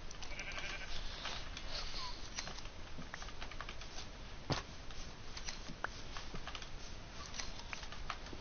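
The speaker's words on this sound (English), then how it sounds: "let me just shear some sheep" Sheep in Minecraft bleat repeatedly while being sheared, short game bleats over a steady, noisy background with brief clicks, fairly faint and with no talk.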